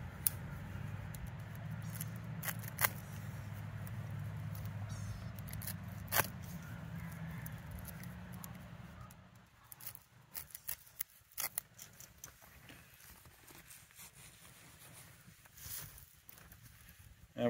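Scissors snip rigging line off a new blue crab trap, a few sharp cuts over a low steady hum, then quieter scattered clipping and handling noises close by.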